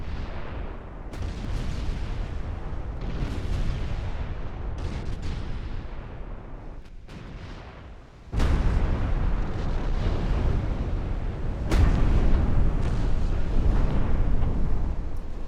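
Naval artillery and secondary gunfire in a naval battle game with battlecruisers and enemy transports, heard as a continuous rumbling barrage of booms that swells loudly around the midpoint and again near the end, with no talking.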